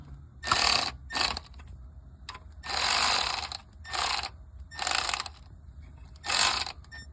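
A ratchet wrench tightens bolts on the transmission pan of a 2017 Chevrolet City Express, giving six distinct bursts of rapid clicking, close and crisp, with short quiet pauses between them.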